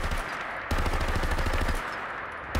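A modded automatic rifle in Fallout 4 fires sustained loud bursts, rapid shots running together with brief pauses between strings, close and alone.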